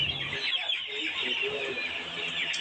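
Layer hens cluck and murmur in a continuous, fairly close chorus while being held one by one for pox vaccination, with soft rustling beneath.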